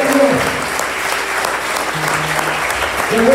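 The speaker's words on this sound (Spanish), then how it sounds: "Dale ofrenda de palmas a Jesús." A church congregation claps together in sustained, dense applause at a worship service, loud and steady throughout, with a few brief voices rising over it.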